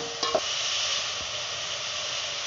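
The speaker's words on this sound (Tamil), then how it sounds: "கத்திரிக்காயை நல்லா வதக்கிக்கலாம்." Brinjal (eggplant) with tomato sautéing in a pan for fish curry, a steady close sizzle with a couple of brief stirring scrapes near the start.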